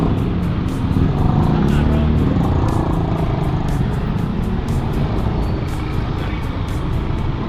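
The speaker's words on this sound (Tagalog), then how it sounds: "Dami, di ba? Dami motor." Dense traffic with many motorcycles, recorded while riding a Yamaha Aerox scooter from Cavite to Pasay; a steady, close engine drone with wind rush continues throughout, and a person talks over it.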